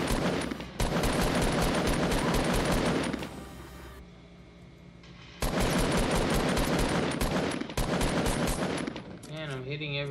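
Sustained bursts of rapid gunfire in the Fortnite battle royale crackle loud and close, pausing briefly before another long volley resumes, with a short musical effect near the end.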